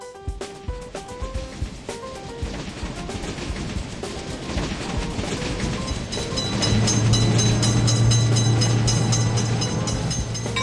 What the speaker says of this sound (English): Train is coming!